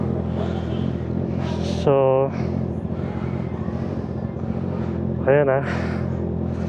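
A 2025 Honda CBR650R with an SC Project exhaust idles with a steady throbbing rumble, then revs sharply twice in short rising bursts, while people talk over it close by.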